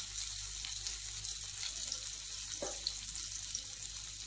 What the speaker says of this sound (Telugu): ఇప్పుడు పాన్లో ఆయిల్ వేసుకొని ఆవాలు అలాగే ఉల్లిపాయ ముక్కలు వేసి రోస్ట్గా ఫ్రై చేసుకోవాలి.